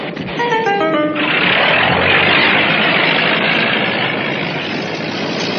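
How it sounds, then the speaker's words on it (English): Biplane engine cranking and catching with a few stepped sputters, then settling into a loud, steady propeller drone as the plane begins to roll, alone without talk. "The engine fires and the plane begins to roll with Rambo galloping alongside it"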